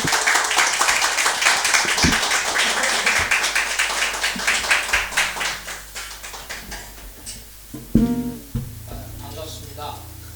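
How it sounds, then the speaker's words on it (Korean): A church congregation claps in welcome as the pastor steps up at a revival meeting in Paris, brisk dense clapping that thins into scattered individual claps and knocks, with a few sounds of movement near the end. "우리 한번 목사님 나오실 때 우리 큰 박수로 목사님 환영하도록 하겠습니다."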